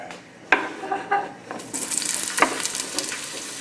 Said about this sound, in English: I'm going to saute the vegetables now that are going with the quinoa.